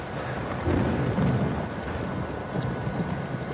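Steady rain hiss with low rumbling thunder swelling and fading, continuous and fairly close, no voices, in the video game Uncharted 4.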